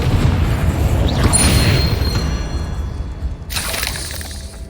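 A Confringo blasting spell erupts in Hogwarts Legacy, with a booming, shattering burst over continuous game noise, followed by a second crackling blast near the end.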